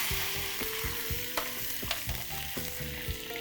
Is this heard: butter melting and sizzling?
yes